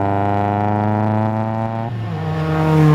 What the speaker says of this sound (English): Mazda's brand new baby racing car at Winton, and it is bucketing down